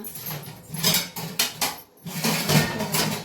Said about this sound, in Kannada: ಪಾತ್ರೆ ತೊಳೆದಿರೋ ಪಾತ್ರೆಗಳೆಲ್ಲ ಜೋಡಕ್ಕೆ ಹೋಗ್ತೀನಿ